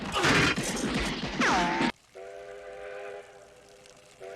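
A steam train from Back to the Future III lets out a loud whistle over a burst of clattering noise, then a sustained multi-tone whistle sounds more softly and evenly for a couple of seconds.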